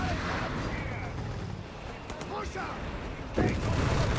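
A mine detonates in Company of Heroes 3, a WWII strategy game, as a sudden deep blast that lifts out of a dense bed of distant artillery and gunfire. A commentator talks over the battle noise.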